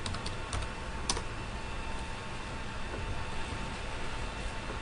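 Computer keyboard typing a search, a few sparse key taps near the start over steady faint background hiss, then mostly quiet.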